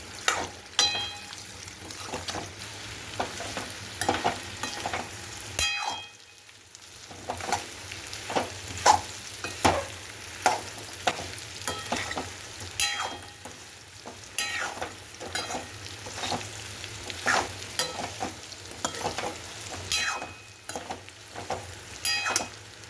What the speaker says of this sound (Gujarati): હવે મુઠિયા હલાવી દઈએ.